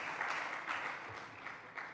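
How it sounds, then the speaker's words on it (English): A conference audience claps for a speaker coming to the stage, a dense, fairly faint patter of many hands heard from a distance in a large hall, continuous for a couple of seconds. "A round of applause for her as she comes."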